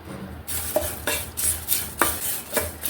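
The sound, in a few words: curry leaves being dry-fried and stirred in a pan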